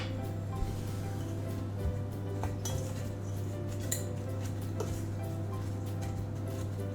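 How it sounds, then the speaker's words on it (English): Breadcrumbs coated in melted butter being stirred in a pan, giving a steady run of light metallic scrapes and clinks of a utensil against the pan, close and continuous over a low background hum. "So give it a good stir several times until you can't see any extra bits that haven't got any butter on"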